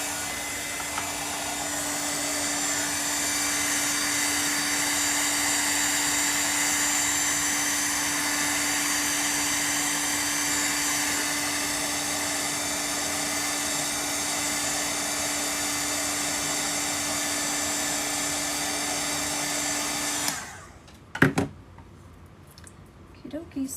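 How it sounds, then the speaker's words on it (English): A hair dryer blows steadily and close for about twenty seconds on freshly painted wooden door hanger pieces, with a constant whirring hum, then cuts off abruptly, leaving a few handling clicks and knocks. "let me hit some of these pieces with the dryer"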